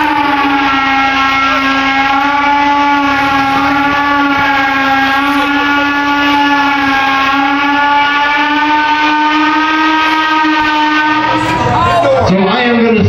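A homemade imitation of the York factory steam whistle blows a loud, sustained, chord-like tone that holds steady for about eleven seconds before wavering and breaking off near the end.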